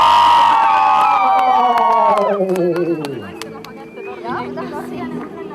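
Outdoor crowd at a village craft fair cheering for a winning village: loud, rising-and-falling whoops and shouts that fade, followed by sparse scattered claps and chatter.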